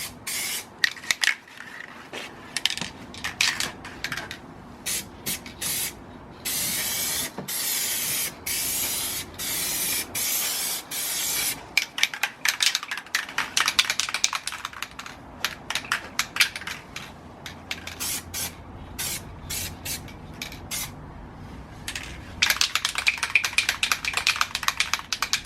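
Aerosol spray paint hissing onto a Nissan S15 rocker cover in bright red, delivered in repeated short bursts and longer sweeping passes, loud and close, with clicks and handling noises between strokes and no talking.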